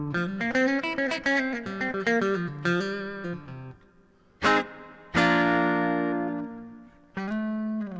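Electric guitar runs through a Hotone mini effects unit with EQ, playing a run of bright, distorted notes and then longer sustained chords that ring and fade between strums, with no talk.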